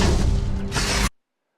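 Barracks and unit building sound effect from the Command & Conquer Rivals video game: a brief loud rumbling burst followed by a second brighter surge, alone, ending abruptly after about a second.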